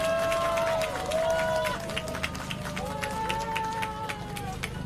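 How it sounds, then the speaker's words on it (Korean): An audience at an outdoor Korean political rally claps steadily, the scattered claps running under voices and a tonal chant or music throughout. "이 두 분 위원장께 큰 격려의 박수 한번 부탁드리겠습니다"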